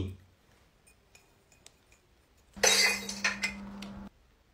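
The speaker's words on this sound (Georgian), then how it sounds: "აი მიდი, ხრუსტალის ჭიქები გარეცხე." Crystal drinking glasses clink together while being washed, a brief close cluster of bright chinks and knocks lasting under two seconds after a near-silent start.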